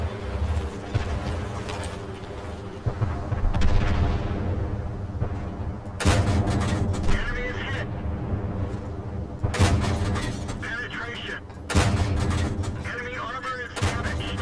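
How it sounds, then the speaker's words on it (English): The AC1 Sentinel tank's main gun firing in World of Tanks: loud, punchy blasts repeat every few seconds over rumbling engine noise, each with a sharp crack and a decaying tail, and no talking. "Very good rate of fire, very punchy."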